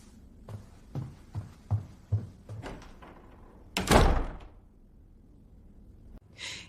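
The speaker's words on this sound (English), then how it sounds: "Close the door." A series of soft thumps leads into a heavy door swinging shut with a solid thud, followed by a brief rustle.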